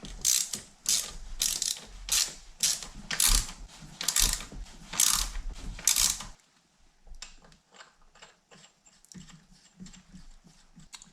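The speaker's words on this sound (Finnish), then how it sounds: "Tuolla kierretapilla ei saanut vejettyä ihan pohjaan asti, niin mä terotin tällaisen pultin." A ratchet clicks in a steady series of strong strokes as a sharpened bolt is threaded into a scooter part to chase the threads, then continues as lighter, sparser clicks, close and alone.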